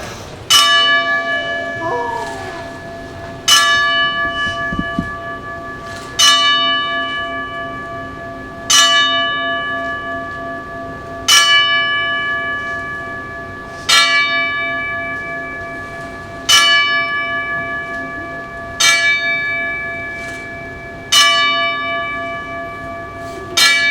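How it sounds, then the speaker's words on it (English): A single bell rung ten times in slow succession as a tribute, each strike ringing out clearly and decaying before the next, with no talking over the tolls. "We're going to ring the bell 10 times in honor of the flying Pollock, Steve Podunavac."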